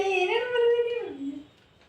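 A person's voice imitates a train whistle in a husband-and-wife guessing game, making one sustained, close hoot that holds steady and then slides down in pitch before fading.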